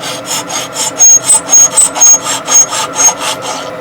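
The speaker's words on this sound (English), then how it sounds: "The next job now is to clean up both scarves with a file." A hand file rasps over the scarves of a pair of blacksmith's box jaw tongs in about a dozen close, loud, rhythmic back-and-forth strokes, each with a bright metallic edge, and no talking.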